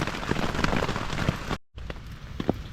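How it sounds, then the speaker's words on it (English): Rain falling on a tent at a motorcycle campsite, a dense steady patter with scattered louder drops, close and continuous, briefly cut by a gap before resuming. "Still raining."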